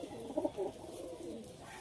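Pigeons coo faintly in a short, soft burst near the start, with a quiet murmur of more cooing behind it.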